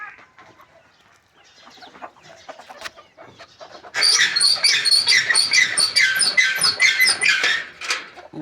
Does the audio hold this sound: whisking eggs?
no